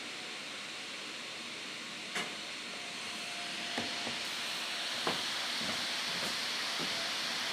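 A Razer Blade Stealth laptop fan runs loudly as a steady broadband whoosh that slowly grows stronger, with a few faint clicks and knocks scattered on top.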